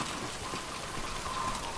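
Steady rain falls in the video game Death Stranding, a dense, even hiss of drops on surfaces, quiet and continuous with no voices.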